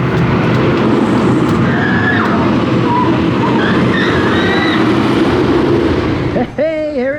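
The Zadra roller coaster train at Energylandia rumbles loudly and continuously on its track with metallic wheel squeals, then a voice speaks at the end.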